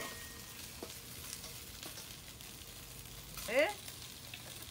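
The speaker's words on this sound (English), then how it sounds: "Allow it to stir fry, so that the oil and the herbs get nicely coated." Steamed squash, potatoes, tofu and Brussels sprouts stir-frying in oil with herbs, a steady soft sizzle with a brief louder scrape of stirring near the end and one spoken word.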